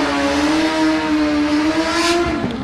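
A supercharged Suzuki B-King 1340cc motorcycle races at a street drag event, its engine howling loud and close in a sustained high-revving note that rises steadily before easing off at the end.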